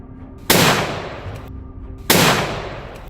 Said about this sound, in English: The wild boar collapsed after a gunshot.